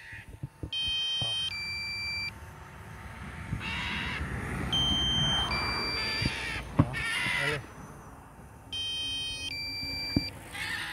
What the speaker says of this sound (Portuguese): Low battery warning.